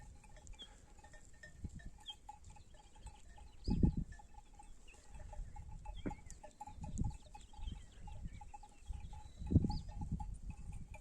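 A flock of sheep bleats in a foggy village, scattered calls rising at several moments, some nearer and louder, over a quiet rural background with faint distant noises and no talk.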